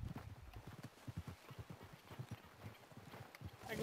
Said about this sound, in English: Let me get my horse here.